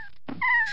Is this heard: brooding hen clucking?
no